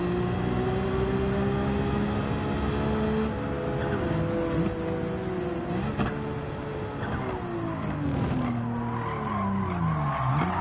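A car in a racing video game slides under the e-brake, its tires squealing loudly and continuously over a droning engine whose pitch rises and falls through the skid.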